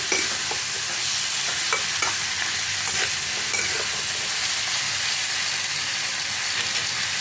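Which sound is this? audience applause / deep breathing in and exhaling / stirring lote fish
stirring lote fish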